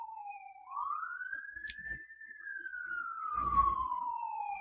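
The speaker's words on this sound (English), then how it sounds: "There's the sirens really close." A police siren wails as it passes close by, one long rising and falling sweep, with brief low rumbles of traffic underneath and no talking.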